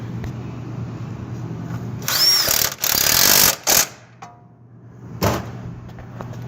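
Power tool driving a 10mm bolt back in during a rear brake job on a 2011 Ford Explorer, two loud whirring bursts with a short pause, then a brief final burst over a low garage hum.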